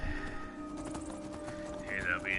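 Horse hooves clip-clop steadily in the video game Skyrim, a soft rhythmic trot under a person talking, with a brief whinny-like tone near the end.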